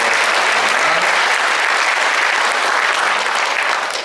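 Warm applause from a village audience at an urban-regeneration community event, a thick continuous crowd clapping that stays loud and even throughout.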